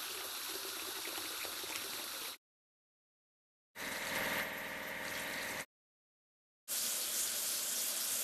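Water sprays steadily while a lifeboat is being washed in a kids' transport game, in three separate bursts of rushing spray broken by silent gaps, with no talk.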